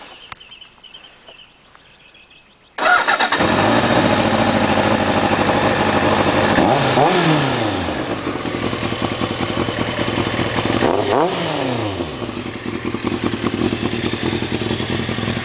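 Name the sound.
2001 Kawasaki ZX-6 motorcycle with Vance & Hines exhaust revving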